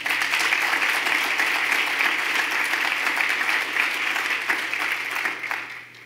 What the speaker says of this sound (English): Tom Frieden deserves a round of applause.